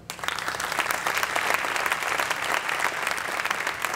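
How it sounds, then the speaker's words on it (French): A room full of people at a French-language film awards ceremony claps steadily, a dense even applause that starts abruptly and holds at the same level throughout. "Nous allons encore l'applaudir."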